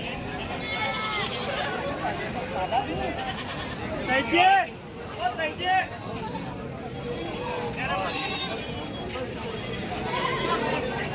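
Local-breed goats bleat repeatedly amid the busy Dhule goat market, several calls rising over a steady babble of crowd chatter and nearby voices.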